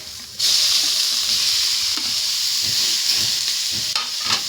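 Pork drops into a hot pan with browning onions and bursts into a loud, steady sizzle and crackle of frying that fills the whole stretch, with a few stirring scrapes near the end.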